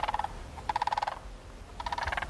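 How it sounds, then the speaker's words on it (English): Cranes calling across a valley in rural Modoc County, California: three bursts of rapid, rattling, bugling calls, moderately distant and carried on open air, with no talking. "Cranes are the oldest living species of birds on the planet, so I figure that sound has been around for a long, long time"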